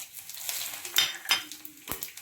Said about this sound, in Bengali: এবার কড়াইতে ফোড়ন দিলাম জিরে, শুকনো লঙ্কা, তেজপাতা।